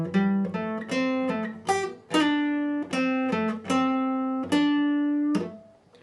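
A guitar lesson riff played at full tempo: a quick run of plucked, ringing single notes and short phrases with clear attacks and decays, alone and close.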